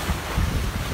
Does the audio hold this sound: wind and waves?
yes